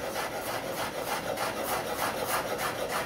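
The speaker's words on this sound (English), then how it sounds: "I'm slicing garlic here." A chef's knife slices garlic cloves thin on a cutting board while making eggplant caponata, a steady run of quick, close scraping cuts at an even rhythm with no talking.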